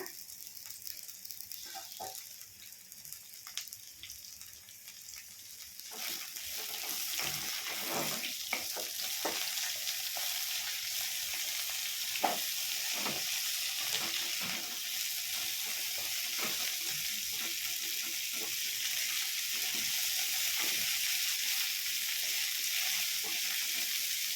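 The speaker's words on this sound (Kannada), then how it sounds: "ಈಗ ಇದಿಷ್ಟನ್ನು ಕೂಡ ಹಾಕ್ಕೊಂಡು ಸ್ವಲ್ಪ ಫ್ರೈ ಮಾಡ್ಕೊಳ್ಳೋಣ" Ingredients for village-style chicken chaaps frying in hot oil, a steady bright sizzle that swells after a few seconds and holds, with occasional stirring clicks and faint water sounds, close and continuous.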